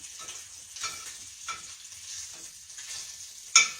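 Bacon frying in a skillet gives a steady, close crackling sizzle with scattered pops and spits, and one sharp louder crackle near the end; no voices.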